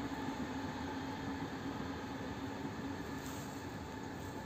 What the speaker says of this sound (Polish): mamy Express Intercity Premium relacji Gdynia Główna, Bielsko-Biała Główna